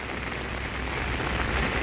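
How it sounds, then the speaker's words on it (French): Rainwater rushes down a street in Jette, a steady broadband wash of flowing water and falling rain, fairly loud and unbroken for the whole moment. "toute l'eau dévale ici de la Trève de Rivieren"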